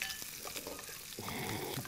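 Food fries steadily in a pan while spaghetti carbonara is being made, giving a continuous dense sizzle at close range with small stirring noises and no talk.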